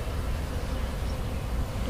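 Agitated honey bees, just shaken in sugar, buzz in a dense, steady drone close by, with no talking over them.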